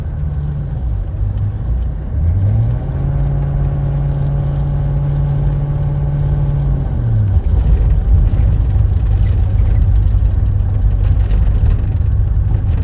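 A 1984 GMC Suburban K2500 with a Detroit Diesel cruises on the freeway, its steady low engine drone and road rumble continuous and close, with a brief rising engine tone partway through.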